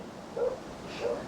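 A dog in the Life Is Strange video game gives two short barks, one near the start and one about half a second later, moderately loud over a faint ambient background.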